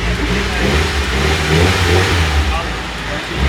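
Nissan S15 engine revving hard during a drift, loud and close with a steady rough roar throughout, voices faintly mixed under it.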